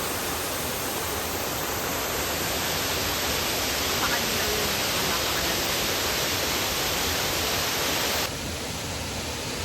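The fast, strong current of the Papaya River on Tarak Ridge in Mariveles, Bataan roars as a loud, steady broadband rush, close and unbroken for the whole stretch.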